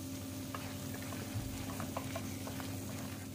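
Spices and masala for an egg curry stirred in a hot pan, a steady bubbling sizzle with faint scrapes and clicks of a spoon over it, close and continuous, no talking.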